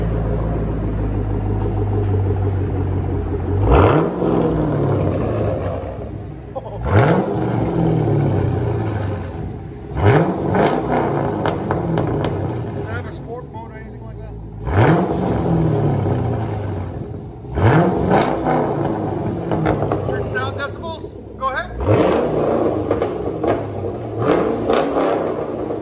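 A Chevy Camaro SS with a 6.2L V8 and aftermarket exhaust revs repeatedly, loud and close, each blip rising sharply then falling back to a deep rumbling idle, about six pulls in a row.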